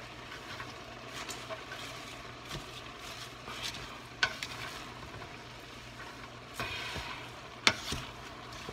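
Kale and cabbage being stirred in oil in a pot for a cabbage soup, a low steady sizzle with intermittent scraping and clinking of a spoon against the pot, fairly close and quiet.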